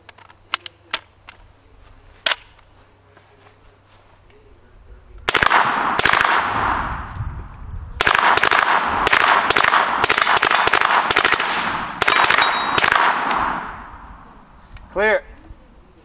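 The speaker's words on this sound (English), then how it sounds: "This is a HK MP5, fully automatic." HK MP5 9mm submachine gun on full auto at around 800 rounds per minute, several long loud bursts of rapid cracking after a few single shots, ending with a short ringing clatter.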